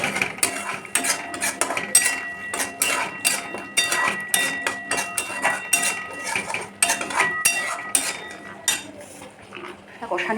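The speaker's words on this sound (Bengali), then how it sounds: "মশলাটা আমি লো ফ্লেমে কষিয়ে নিচ্ছি।" Spice paste of green chilli, ginger, onion, garlic, cumin and tomato being sautéed on low flame, with repeated clinking and scraping of a utensil against the pan, close and fairly loud with no sizzle standing out.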